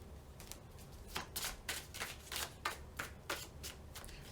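Tarot cards are shuffled by hand in quick riffling bursts, about a dozen crisp flutters in an uneven rhythm, close and fairly quiet with no talking.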